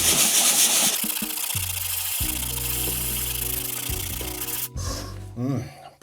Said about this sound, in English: We'll give that a quick sand.